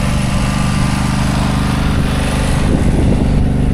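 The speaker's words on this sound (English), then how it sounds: "I love the Husqvarna, you know," A Husqvarna lawn mower engine runs close by with a loud, steady chugging drone. It holds a constant idle-like pulse throughout, with no talking.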